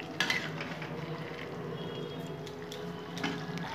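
Mutton curry with a sprinkle of garam masala stirred in a pan: a spoon scrapes and clinks against the metal over a low, steady sizzle, with a couple of sharper knocks near the start and end.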